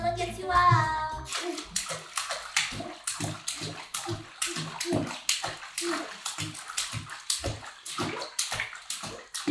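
A baby splashing in bath water, a rapid run of close, loud splashes in a steady rhythm that follows a short vocal sound at the start.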